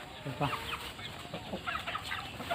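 Chickens clucking nearby in a rural Thai kitchen-yard setting, several soft overlapping clucks and short calls in an irregular rhythm, faint against a hissy background.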